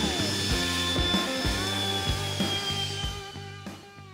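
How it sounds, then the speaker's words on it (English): Belt sander smoothing the edges of fabricated metal parts, a steady whirring drone with recurring rhythmic thumps as the workpiece is pressed against the belt, tapering near the end. "Now we can smooth out the edges on our trusty belt sander."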